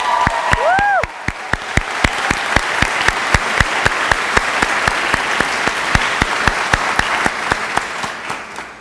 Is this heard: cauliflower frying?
no